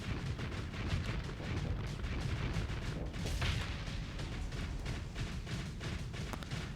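Spaceship weapons fire in a spacefaring strategy battle, a run of booming shots and sharp cracks in irregular bursts over a rumbling background, moderately loud throughout.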